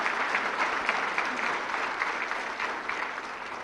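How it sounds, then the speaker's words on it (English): Sustained audience applause fills the hall at the inaugural session of the Pakistan Mineral Summit, a dense, steady wash of many hands clapping at an even level throughout, with no voices on top. "they truly deserve a big round of applause"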